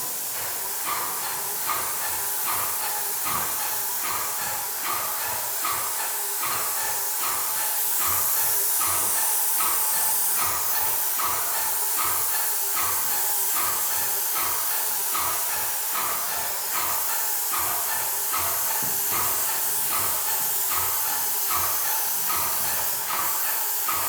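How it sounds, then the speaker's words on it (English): An airless paint sprayer coats doors lying flat, giving a steady loud hiss broken by rhythmic pulses as the gun passes back and forth, running continuously close by. "I'm gonna start spraying."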